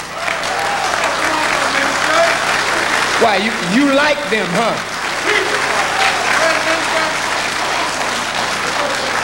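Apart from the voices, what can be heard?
audience applauding a speech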